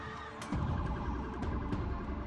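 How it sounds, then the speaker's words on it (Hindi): A police truck siren wails continuously with a repeating electronic pattern, fairly loud and close, over a busy rumbling protest crowd background with no clear talk. "इसी दौरान पुलिस का एक और ट्रक सायरन बजाता हुआ भीड़ में घुसता नजर आया"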